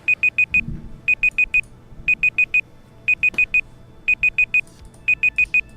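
A timer alarm beeps in repeated bursts of four quick high electronic tones, each group separated by a short pause, loud and clear over a faint background with no talking.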